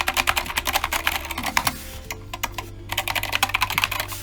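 Rapid clacky typing on an Epomaker SK61 compact mechanical keyboard, close and crisp, steady bursts of keystrokes with a brief pause midway, no talking.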